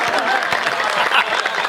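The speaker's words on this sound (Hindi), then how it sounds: "तालियां बजानी है तो मिलकर बजा दो एक साथ" An audience at a Hindi comic poetry recital claps together in a dense, steady patter of applause, with a general crowd murmur mixed in.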